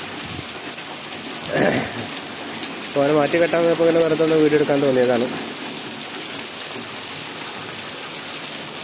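Steady rain falls outdoors as a continuous, even hiss throughout, with someone speaking over it partway through.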